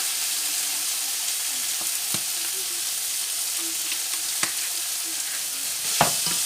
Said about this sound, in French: Donc ici vous allez un petit peu bien cuire la tomate.